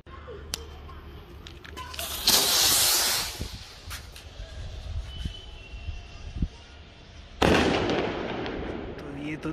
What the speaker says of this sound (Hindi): अब हम लोग जलाने वाले हैं गोल्डन विलो रॉकेट